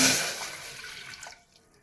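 Water is poured into a pressure cooker holding rice, a brief splashing gush that fades out within about two seconds.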